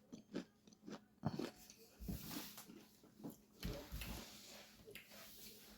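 Close-up crunchy bites and chewing of fried popcorn chicken, several crisp crackling bursts in irregular rhythm, loud near the microphone with no talking.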